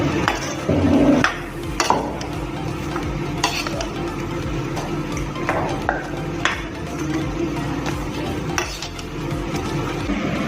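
Spoon stirring mutton curry in a pot, continuous scraping and clinking against the metal over a steady background sizzle, close and moderately loud throughout.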